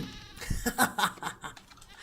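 A goat bleats in the survival video game Raft, several short wavering cries over about two seconds, fairly close and moderately loud, with no one talking over them.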